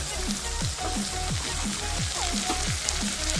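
Onions frying in a pan with fried coriander and dried red chili paste added, a dense steady crackling sizzle with a faint rhythmic pulsing hum underneath, close and continuous, with no talking.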